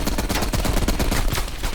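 Rapid gunfire from Call of Duty Black Ops Cold War, a dense, loud burst of overlapping automatic shots and explosions that continues without pause.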